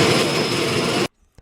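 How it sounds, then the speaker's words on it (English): A light aircraft arriving in Phillipsburg, Kansas for the Fly Kansas Air Tour roars with a loud, steady broadband engine rush that cuts off sharply into near silence, followed by a faint click. "planes from across the state were landing out Phillipsburg for the Fly Kansas Air Tour"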